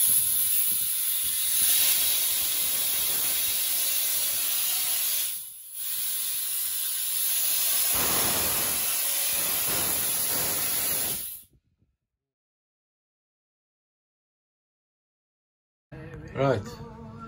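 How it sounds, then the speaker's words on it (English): A loud, steady blast of compressed air blows soot out of a diesel cooker element aboard a sailing catamaran, running about eleven seconds with a brief dip midway, then cutting to silence before a short faint clatter. "we're going to give it a blast with some compressed air to get all the soot out"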